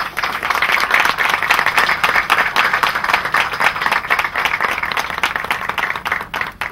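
An audience at a street naming ceremony claps steadily, a dense, close burst of applause that carries on throughout at fairly even loudness.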